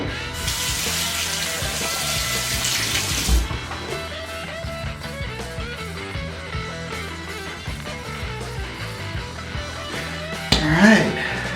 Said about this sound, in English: Rinse off my face here.